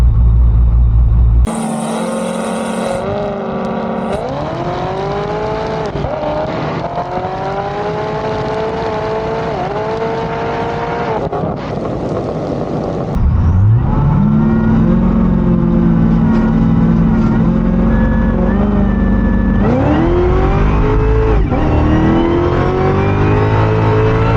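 A C7 Corvette Z06 launches down a drag strip on a racing pass, its engine roaring loud and close, climbing through the revs in repeated rising sweeps with brief drops at each gear change.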